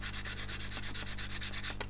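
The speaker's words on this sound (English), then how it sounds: "Because we're sanding the foil" Aluminium foil being sanded on a scale model wing panel, a steady rhythmic scratching of strokes repeating about every tenth of a second, close and continuous, with a brief sharper squeak near the end.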